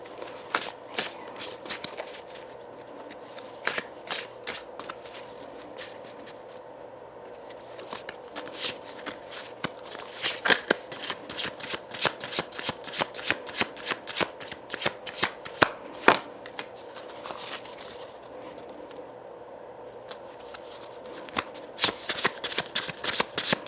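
A deck of tarot cards shuffled by hand during a Sagittarius reading, dense rapid runs of crisp papery flicks and taps over a faint steady hum, close and fairly quiet, with no talk.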